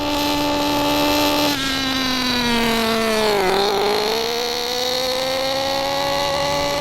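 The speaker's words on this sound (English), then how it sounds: "a richly tuned engine will tend to have a lower pitch and may sputter or gurgle" A nitro RC car engine tuned rich drones steadily and loudly, its pitch sagging and recovering with a slightly uneven, gurgling edge throughout.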